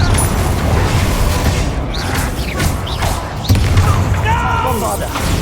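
Confringo spell explosions in Hogwarts Legacy, a dense, loud rumbling blast-and-crash texture filling the whole stretch with low booms and debris, close up, with voices shouting over the combat.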